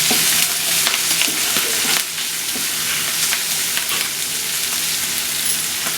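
Drumstick leaves cooking down in a pan with chili powder, stirred with a spatula: a steady close sizzle and frying hiss with repeated scraping strokes, alone without talk.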